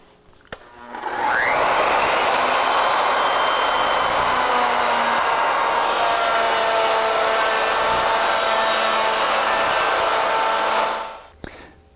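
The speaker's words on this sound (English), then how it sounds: "So now we can just cut a ring around the beginning and start the spiral." Legacy Ornamental Mill router spinning up and cutting a ring at the start of a spiral cut: a loud, steady high-pitched motor whine held for about ten seconds, then it winds down.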